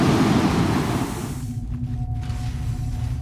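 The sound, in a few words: snowstorm wind in Star Citizen video game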